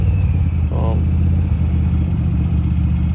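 Yamaha motorcycle rolling at slow speed during practice maneuvers, a steady low engine rumble with clutch-controlled throttle shifts, close and continuous; a brief voice is heard near the start.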